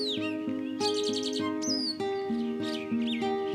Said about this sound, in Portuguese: Mais acima da montanha, um par de chascos poliglotas estão cantando.